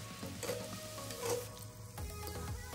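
Sweet malpua batter fries in hot oil in an iron wok, a faint, close sizzle with light scraping and spooning sounds as oil is dribbled over the cakes.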